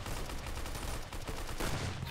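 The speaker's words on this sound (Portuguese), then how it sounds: "O meu tiro não acerta, mas o dele me acerta." Gunfire in the Roblox game Arsenal: dense, rapid bursts of shots crackling almost continuously at a steady, moderate level.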